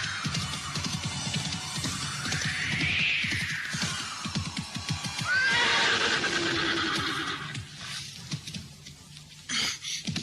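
A horse whinnies loudly up close while its hooves beat a rapid clip-clop rhythm beneath, the neigh rising and falling before galloping continues on its own in a dramatized Indonesian audio story.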